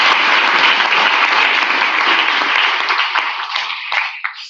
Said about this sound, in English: can we give a huge round of applause to all of our participants?